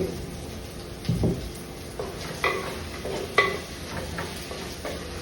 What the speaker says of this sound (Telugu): సాల్ట్ వేస్తే తొందరగా వేగుతుంది ఉల్లిపాయ